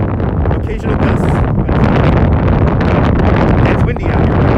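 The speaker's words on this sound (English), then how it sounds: "It's windy out here." Gusty wind batters a phone microphone during an outdoor sunset stream in Brooklyn, producing loud steady low roaring and flapping bursts, with someone speaking faintly beneath the buffeting.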